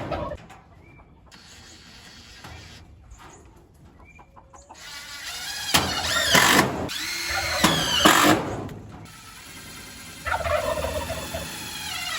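A power drill drives screws while fastening wire cages on a homestead, several loud whirring bursts of a few seconds each, with turkeys gobbling nearby between them.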